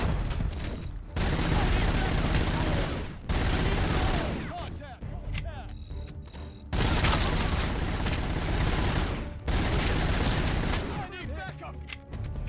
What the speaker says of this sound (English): that noise. When you shoot them in the face with a shotgun.